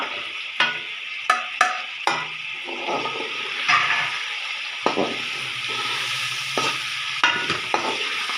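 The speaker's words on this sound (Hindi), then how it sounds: "मैं मसाले गरम कर रही हूँ" Dried coriander, crushed chili, salt, turmeric and biryani masala sizzle as they are heated and stirred in a pan for Punjabi-style chicken aloo rice, with a steady fry punctuated by sharp spoon scrapes and clicks, close and alone.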